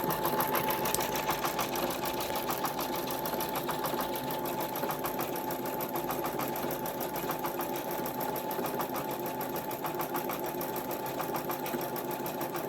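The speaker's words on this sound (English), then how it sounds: "So while it's stitching out that pattern, I think I'll back this up." An embroidery machine stitching out a pattern runs continuously, producing a rapid, even mechanical whirring and ticking that stays loud and steady throughout, with no voices.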